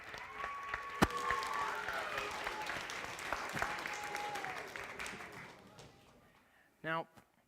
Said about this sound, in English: Let's have one more round of applause for Mayhem Magic.